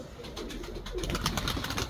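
Pigeons coo close by, a low, throaty, rolling call that swells in the second half over a soft background hiss.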